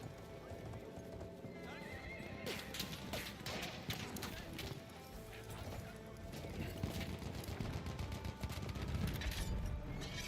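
A Battlefield 1 multiplayer match carries galloping horse hooves and a neighing horse over dense bursts of gunfire, with a voice talking now and then through the busy, loud mix.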